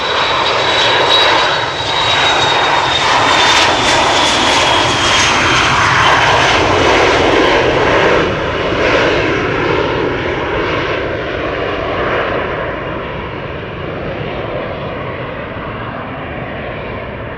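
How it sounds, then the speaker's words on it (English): A Dassault Falcon X business jet takes off at Amsterdam Schiphol, its loud, steady engine roar filling the air and slowly fading as it climbs away. "We have a bizjet taking off, not visible on flight radar."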